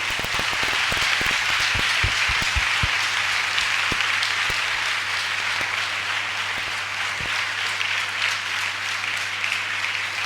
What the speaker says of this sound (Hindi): आइए प्रभु के लिए जोरदार ताली बजाएं।